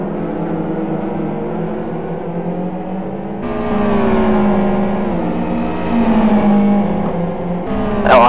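GT1 race cars howl into a chicane, a loud engine note that swells as a second car closes in, pitch dipping under braking before a sharp rev at the end.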